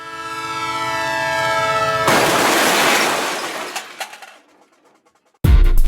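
A train sound effect plays loud and alone: a sustained horn-like tone, then a harsh crashing burst of noise that fades to silence before a sudden loud impact at the end.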